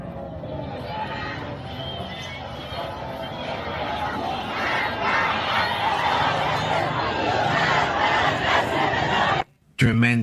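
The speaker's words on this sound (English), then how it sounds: "A large crowd from his hometown attended his funeral, chanting, "Death to Ayatollah Khamenei."" Large crowd at a funeral in Iran chanting loudly and continuously in rhythmic unison, a dense mass of voices that cuts off abruptly near the end.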